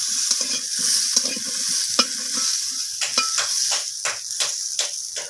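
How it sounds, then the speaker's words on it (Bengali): Flat beans (sim) lightly frying in a wok, a steady sizzle and hiss with sharp clinks and scrapes of a spatula stirring at irregular intervals, close up. "সিমগুলোকে দিয়ে আমি হালকা করে সিমগুলোকেও একটু ভেজে নেব"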